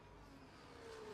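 A Mercedes race car passes in a racing video game, its engine a steady, fairly loud whine that rises slightly toward the end of the brief pass.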